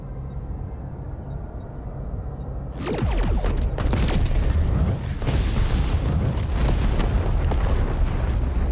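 Tricobalt device detonating and destroying the array in Star Trek Voyager, a sudden deep roaring blast that swells into a sustained rumbling explosion with crackling debris, loud and alone.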